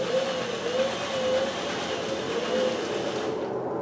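A Singer 411G sewing machine running at full speed chain stitching with light overlocker thread, a steady fast mechanical whir with a faint rhythmic hum throughout, close and continuous, tapering off at the very end.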